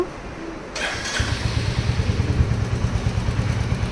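A Royal Enfield Meteor 350 motorcycle engine starts with a short starter whirr, then settles into a close, loud idle with a steady, even thump.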